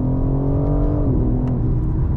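A BMW M car engine revs hard and close, its note rising in pitch, then dipping and climbing again in a smooth continuous whir.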